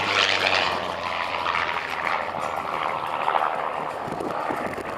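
Spitfire fighter plane passing over an air show in Rennes, its propeller engine a steady broad roar heard from a distance and held for several seconds, with no voices over it.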